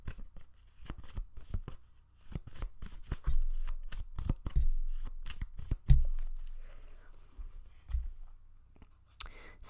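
Tarot cards being shuffled and drawn by hand, a run of quick close riffling and flicking bursts with small clicks and taps, fairly near and alone, with no voice over it.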